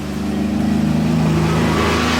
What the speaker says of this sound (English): The one car in Taboga.